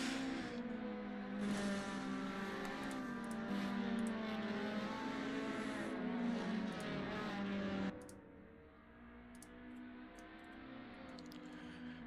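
Toyota Altezza race cars lap Laguna Seca in a racing video game, their engines droning at a steady, sustained pitch before the sound drops to a quieter, lower hum; no voices are heard.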